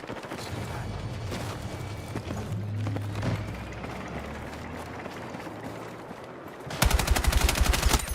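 Rapid automatic fire from the B36 rifle in Battlefield 6, a sustained loud close burst near the end after a stretch of distant battle noise and rumbling.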